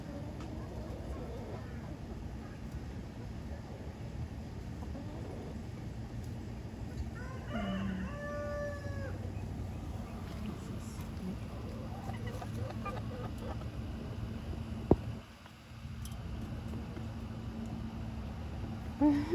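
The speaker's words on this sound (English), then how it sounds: "It's my new rooster." A rooster in a backyard flock lets out a single short crow partway through, with soft clucking and a steady low hum of background noise around it.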